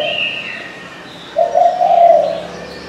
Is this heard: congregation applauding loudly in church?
no